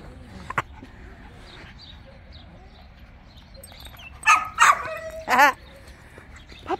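Several short, high-pitched puppy yips and barks sound near the end, after a quiet stretch with a brief squeak and faint voices.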